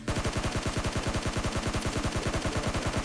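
Rapid automatic gunfire in the battle royale game PUBG Lite, a fast steady burst of evenly spaced shots running without pause, loud and close, with no voices.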